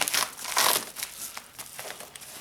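A parcel from AliExpress being unwrapped by hand, its plastic packaging crinkling and crushing in close, busy bursts with a few short tearing rustles, and no talk over it.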